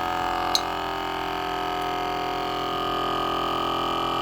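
A small electric vacuum sealer pump draws the air out of a jar of bulk dry goods, giving a steady, even mechanical hum close by that runs the whole time without a break.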